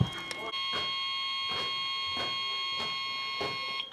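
A building fire alarm in a fire-damaged building sounds without a break as a shrill electronic tone, with a rhythmic pulsing sweep repeating about every two-thirds of a second.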